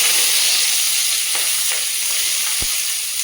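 Onions and panch phoron fry loudly in a pan for a vegetable chorchori, a dense, constant sizzle up close with a couple of faint utensil knocks.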